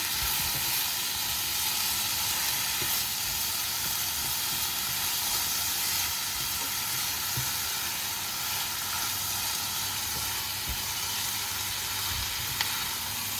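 Mushrooms fry in a pan, giving a steady, loud hiss and sizzle throughout with faint occasional clicks and no talk.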